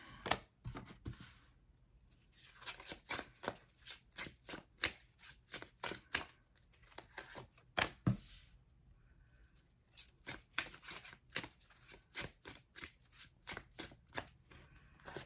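A deck of tarot cards being shuffled in close, quiet bursts of riffling and slapping, with short pauses between runs of crisp snaps.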